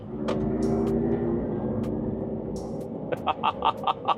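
Artificial growl from a Hummer EV electric truck as it accelerates, a low rumbling drone building and holding under wind noise, followed by a series of short, sharp clicking pulses near the end.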